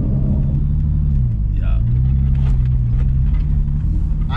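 Steady low road and engine rumble inside a moving car fitted with sound-deadening material, continuous and fairly loud, with a voice speaking briefly over it.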